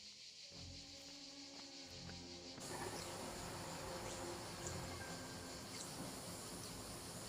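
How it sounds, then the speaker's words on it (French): Cicadas in a prehistoric Cretaceous setting give a steady, dense insect drone that holds throughout and thickens into a fuller buzzing chorus partway through, with no voices. "Comme vous pouvez l'entendre, les cigales existaient déjà pendant cette période."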